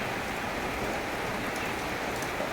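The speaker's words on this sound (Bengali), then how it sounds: "বাইরে দেখো কীরকম বৃষ্টি হচ্ছে" Heavy rain falls outside in a continuous, dense hiss that holds steady throughout, with no voices over it.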